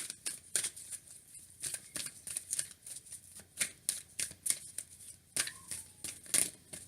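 Tarot cards are shuffled and handled close by in a rapid run of crisp riffling bursts and flicks with short pauses between them. A faint high tone hangs in the background and there is no speech.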